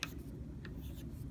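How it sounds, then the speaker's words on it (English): Handwriting by pen, brief scratchy strokes in short bursts, close and quiet over a steady low room hum. "Let me see if I can write it down here."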